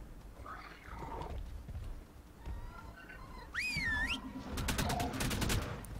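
Rapid bursts of machine-gun-like shooting from creatures in the game Ark: Survival Evolved (Extinction), sharp repeated shots clustered late, following whistling and warbling creature calls, loud and close.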